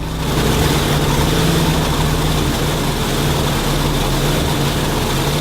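A loud, steady engine drone from a twin-engine, 2,500-horsepower land speed car at Bonneville, with a deep low hum and bright broadband roar, running continuously and close by without any voices.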